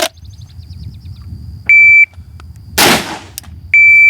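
During a shooting drill, a shot timer gives a sharp electronic beep, then a single loud gunshot cracks, followed by another timer beep, all close and with no talking.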